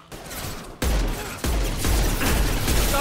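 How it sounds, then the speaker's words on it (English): Mass Effect 2 gunfire crackles in bursts of loud rapid shots with sharp onsets. The volume jumps at each new volley, and there is no talk over it. "The gunshots, it's delayed."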